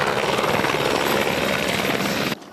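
Helicopter flying over the sea near Hawaii during search and rescue training, a steady loud rotor and engine roar that holds for over two seconds, then drops away sharply at the end.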